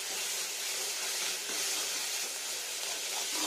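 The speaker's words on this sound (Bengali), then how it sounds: "আর হলুদ গুঁড়ো, আর একটু ফ্রাই করে নিই" Turmeric powder frying in a pan for a vegetarian dish, giving a steady, even sizzling hiss that holds for the whole stretch with no voices over it.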